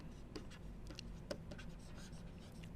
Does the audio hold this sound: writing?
yes